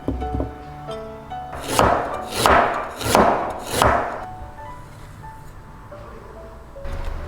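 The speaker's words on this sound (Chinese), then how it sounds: "生姜已经去完皮了，也清洗干净了，再给它切成片状" A knife cuts peeled, washed ginger into slices on a board, four loud, evenly spaced chops in a row after some lighter handling knocks, then quiet with one last tap.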